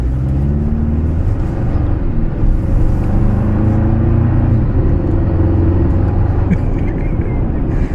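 A 2024 Toyota Tacoma pickup in Tow Haul mode pulls away with a steady, loud engine rumble and rising drone heard from inside the cab, with faint speech briefly under it.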